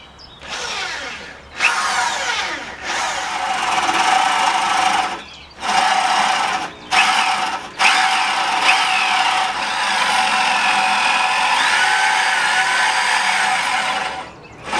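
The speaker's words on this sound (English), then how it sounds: "Now it's time to drill the 1-inch holes coming in from the side." Power drill boring three 1-inch holes into the side edge of a new French door, a loud steady whine running in long bursts broken by short pauses.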